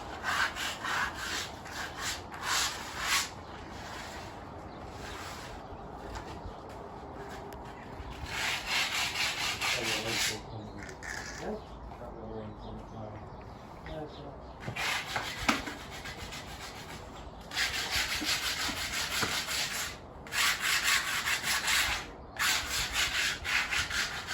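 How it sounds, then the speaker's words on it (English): Sanding on a hard fiberglass koi pond surface, a steady abrasive rubbing that comes in long passes with short pauses, close by and fairly loud, no voices. "they're just going to be doing some sanding now first thing"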